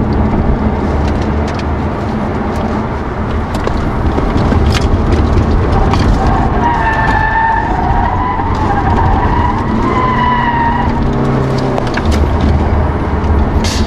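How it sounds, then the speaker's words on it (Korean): An Audi A6 35 TDI quattro diesel engine revs up steadily under acceleration, loud and continuous, with a rising tone and road noise underneath. "이 가속할 때 들리는 엔진 소리도 적당히 음색이 괜찮은 것 같아요"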